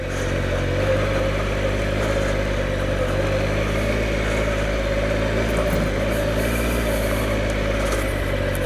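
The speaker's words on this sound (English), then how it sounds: "My bike does still want to dance up here." A Triumph Explorer XCa motorcycle rides along a slippery clay farm track, its engine a steady, loud, close drone that holds throughout with only slight variation.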